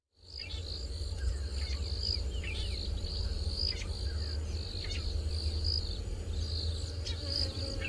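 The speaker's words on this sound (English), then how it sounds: "let's listen to the last of the Dawn Chorus" Birds chirp and trill over a constant drone of crickets, a calm outdoor chorus heard from a distance.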